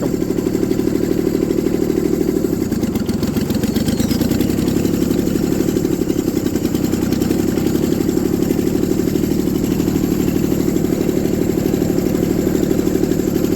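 A Kubota diesel engine swapped into an IH Cub Loboy 154 tractor runs steadily and loudly, a rough, rapidly pulsing low-pitched chug that holds constant throughout as the tractor moves in second gear.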